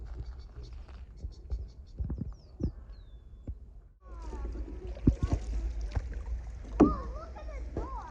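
A kayak paddle dips and pulls through calm water, with soft intermittent splashes and knocks against the hull close by, while a person speaks now and then.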